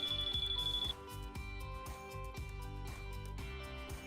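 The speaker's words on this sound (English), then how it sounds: "When the circuit is complete, the unit alarms, letting you know where you have a pinhole." A porosity holiday detector finds a pinhole in a coating and sounds its alarm: a steady high-pitched electronic beep lasting about a second, followed by music in the background.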